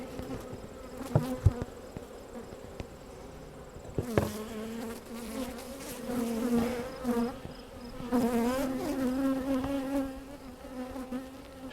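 Honey bees buzzing around an open beehive, a dense steady drone from many insects close by with louder swells as bees pass near, no talking.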